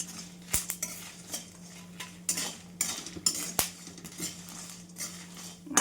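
Spoon scraping and clinking against a pan as coriander and spices are stirred and dry-roasted, with irregular close metallic taps and scrapes over a faint low hum.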